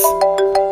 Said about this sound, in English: And it's Angela's iPhone rings.